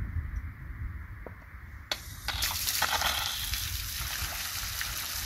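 Water from a garden irrigation pump breaks out at about two seconds as a broad, steady rush and splash that keeps going loud and close. It follows quieter background noise with a few small clicks.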